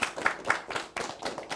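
A small group claps for schools scoring in an accountancy TV game show, a quiet, sparse patter of distinct hand claps with uneven rhythm, fairly distant.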